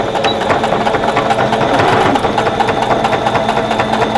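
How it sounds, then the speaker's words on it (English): Sewing machine stitching straight down a needle case with a heavy needle, a fast steady mechanical chatter, close and loud, running evenly throughout. "And then I'm just going to stitch straight down. And I am going to back stitch."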